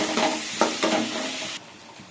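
Chopped onions sauté in a hot pan for mutton intestine gravy, giving a steady close sizzle with a few louder stirring scrapes before it drops quieter near the end.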